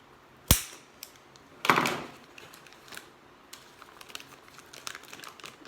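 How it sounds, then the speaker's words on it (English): Plastic covering over a hydrangea cutting is snipped and pulled away, giving two sharp crackling snaps followed by soft crinkling rustles and small clicks, close up with no talk. "So now it's time to cut this one off. This plastic."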